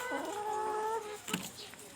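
Chickens on an egg farm cluck and call in a steady, fairly near chorus, with a brief sharper squawk near the end.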